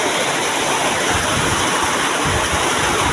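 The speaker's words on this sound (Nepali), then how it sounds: "यस्तो पानी पर्न थाल्यो है यता चाहिँ" Heavy rain pours steadily onto a farm field, a dense, loud, unbroken hiss that holds the same level throughout.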